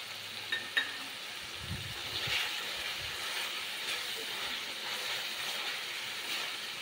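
Spices and salt tossed onto roasted tomato sizzle in a pan while chhole bhaji cooks, a steady soft hiss with a couple of faint clinks near the start.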